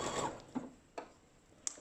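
A sewing machine back-stitching on a bra cup, a few short mechanical clicks and thumps spaced about half a second apart, close and fairly quiet.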